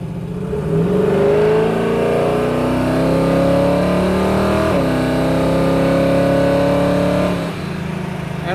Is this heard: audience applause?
no